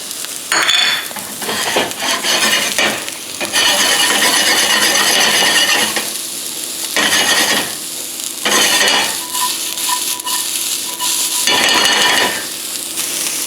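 Fish stir-frying in a wok with the white part of green onion for salt and pepper fish, loud close sizzling broken by bursts of scraping and clattering spatula strokes, with no talk.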